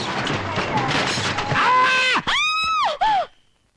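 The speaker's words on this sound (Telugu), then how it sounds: "ఏంటి, నాకేదో అరుపు వినిపించింది." A shrill scream in a Telugu film scene from Bavagaru Bagunnara, set by a car crusher, rises in a few strained, wavering cries near the end over a noisy, busy background before cutting to silence.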